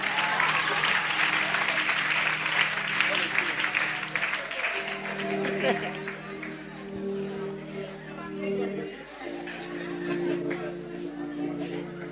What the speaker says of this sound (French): On acclame un peu pour lui encore